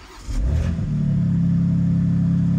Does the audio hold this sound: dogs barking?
no